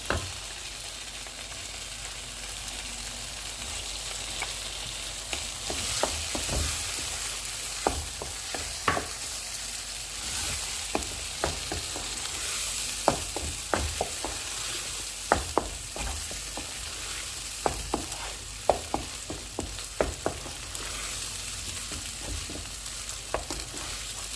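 Palak paneer cooking in a pan after butter goes in, a constant close sizzle punctuated by frequent sharp scraping and tapping stirs, no voices.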